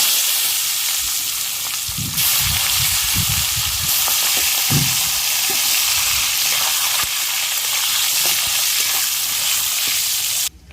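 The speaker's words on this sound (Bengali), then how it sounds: "কড়াই তেল গরম হয়ে গেছে, এঁচড়ের আলুগুলো ভেজে নেব।" Potatoes for a vegetarian jackfruit curry fry in hot oil in a kadai, making a loud, continuous sizzle with low clattering knocks early on as the pieces are stirred.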